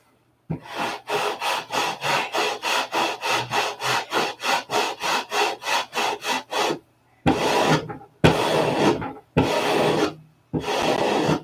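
Wood being sanded by hand with coarse 80 grit sandpaper: a fast, steady run of loud back-and-forth rasping strokes, then a few longer, slower strokes separated by short pauses.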